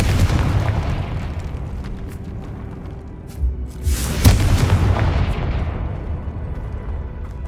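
The Confringo spell explodes in the video game Hogwarts Legacy, a booming burst that swells over ambient rumble and then fades out over a couple of seconds.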